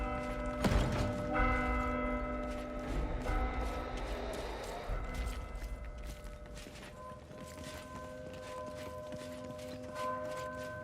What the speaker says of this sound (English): Strike the bell and stand ready!